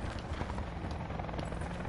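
Helicopter rotor drone from a battle royale game, a steady broadband whir holding at moderate level throughout without pause, with no voices.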